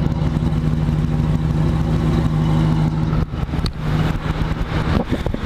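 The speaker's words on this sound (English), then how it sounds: "Go ahead and let's take a listen to this exhaust here." Exhaust of a 1969 Dodge Charger revving, a loud, close rumbling engine note that holds steady, dips briefly, then returns with choppier blips toward the end.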